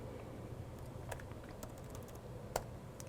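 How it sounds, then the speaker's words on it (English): Close, quick keystrokes on a computer keyboard as a command and a name are entered in Microsoft Teams, a short irregular burst of light clicks over a faint hum. "and type in Alex's name"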